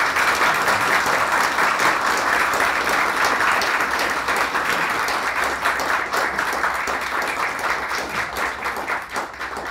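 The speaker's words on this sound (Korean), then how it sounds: "예, 박수로 이렇게 맞아 주십시오." An audience applauds at a Korea University farewell lecture and retirement ceremony for a professor, steady dense clapping that fills the hall for nearly ten seconds and tapers slightly at the end.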